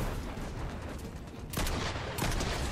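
Pistol gunshots in the video game Fortnite, a sharp burst of crackling shots at about one and a half seconds and another around two and a quarter seconds, loud and close over steady game noise.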